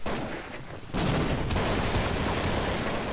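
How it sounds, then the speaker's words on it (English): A flashbang grenade detonates in Counter-Strike on de_dust2: a sudden loud blast, a second sharp burst half a second later, then a sustained dense roar with no voices. "And here comes the flashbang."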